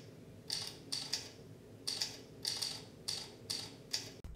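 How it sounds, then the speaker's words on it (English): Simulated typewriter key clicks from an iPhone keyboard tweak tap out in quick, separate strikes, some doubled, about eight crisp clacks spaced irregularly in near silence and ending with a short low thump. "that gives your device haptic feedback and, of course, the all-too-famous keyboard sounds from a typewriter"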